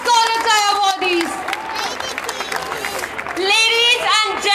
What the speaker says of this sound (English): Let's have a huge round of applause for all the Scholar Tie awardees